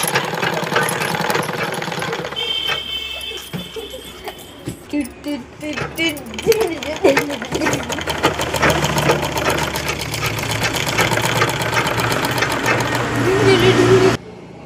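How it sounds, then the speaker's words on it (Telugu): A sewing machine stitches a blouse with fast, close mechanical chattering and rapid needle knocking, its pace speeding up and holding steady before stopping abruptly, over a faint background hum. "బ్లౌజ్ స్టిచ్చింగ్ చేస్తున్నానండి."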